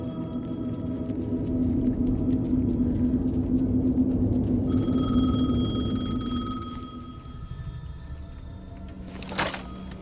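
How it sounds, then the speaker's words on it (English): A payphone ringing in the video game Alan Wake 2, its electronic tone entering midway over a low ambient rumble and ending in a sharp burst, with no speech. "The payphone was ringing."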